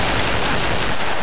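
Gunfire from a war-movie scene, a dense burst of loud, sharp shots packed closely together across the whole moment with no pauses, close and harsh with no talking.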